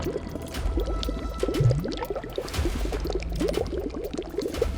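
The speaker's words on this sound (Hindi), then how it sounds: "ये शायद पानी बहने की आवाज थी।" Water flowing somewhere below in a dark underground passage, heard as a steady, dense trickling and gurgling wash that carries on without a break and stays fairly even in loudness.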